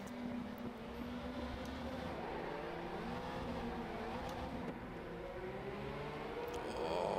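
A Group C race car in RaceRoom strains to launch at Hockenheim, its engine note climbing and wavering as it bogs and revs through the start, loud and steady without speech.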